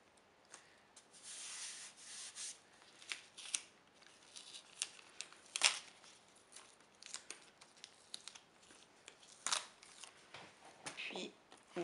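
Adhesive tape is pulled and pressed down at an intersection while making a murder mystery game set, with repeated rubbing, crinkling and sticky tearing sounds, soft and close, in bursts throughout.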